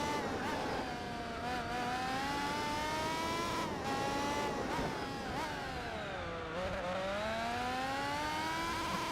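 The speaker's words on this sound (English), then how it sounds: "I lowered the volume on the engine sounds." Car engine in the video game Gran Turismo 4, droning steadily with rising and falling pitch as the car accelerates, shifts and brakes through corners, loud and continuous with no voices over it.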